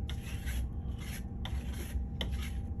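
A Pavan Anima finishing trowel spreads plaster product over a wall in about four rhythmic, rasping strokes, each a soft, close scrape with no voices.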